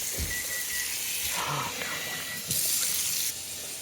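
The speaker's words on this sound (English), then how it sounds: "I will add a little more cold water." Cold water is poured from a tap into a cooking pot of daal, a hissing, splashing stream running in bursts that swell louder partway through, with faint knocks of the pot.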